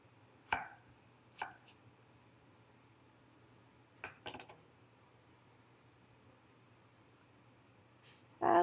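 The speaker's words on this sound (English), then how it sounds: "this is a Badia onion. We're going to cut it in big pieces" A kitchen knife chopping a Badia onion into big pieces on a cutting board: a few sharp, separate cuts spaced seconds apart, fairly close and quiet, with a louder clunk at the end.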